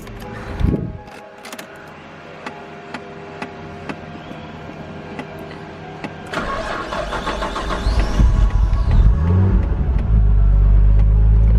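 A Daihatsu Mira Turbo L200 engine turns over and settles into a steady idle, rising to a louder, fuller rumble toward the end. It sounds close and plays alone, with no voices.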